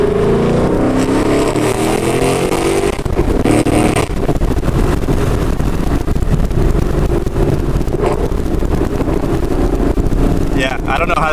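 Ford Mustang accelerating hard with the windows partly rolled down, a loud engine roar rising through the gears with heavy wind rush, with a brief shift gap, and a person talking over it.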